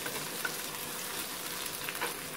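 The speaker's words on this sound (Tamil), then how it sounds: "வெங்காயம் நல்லா வதங்கிட்டு பாருங்க." Onions sauté in oil reused from frying cauliflower, making a steady, close hiss and crackle in the pan. The sizzle stays even throughout, with no talking.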